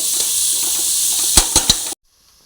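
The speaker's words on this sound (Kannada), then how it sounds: "ಈಗ ಎರಡು ಈರುಳ್ಳಿ ಮತ್ತು ಎರಡು ಕಾಯಿಮೆಣಸು ಇದು ಇದು ಸ್ವಲ್ಪ ಕೆಂಪಾಗಿ ಫ್ರೈ ಆಗಬೇಕು" Onions and green chillies frying in a pan, a steady bright sizzle that holds for about two seconds with a few soft knocks near the end before cutting to near silence.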